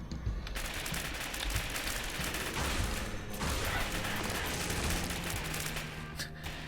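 Turrets firing in the video game The Binding of Isaac, a dense continuous stream of rapid shots and impacts at moderate loudness, steady throughout with only brief dips.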